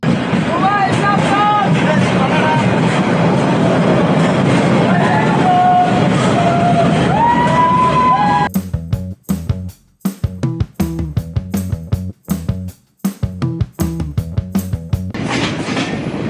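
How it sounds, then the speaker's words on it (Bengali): A train from Chattogram to Cox's Bazar rumbles along with a rhythmic clickety-clack of wheels on rail joints, loud and close, with crowd chatter in the carriage during the first half. "ট্রেন চলতে শুরু করলো চিরচেনা সেই কুঝকঝক শব্দে"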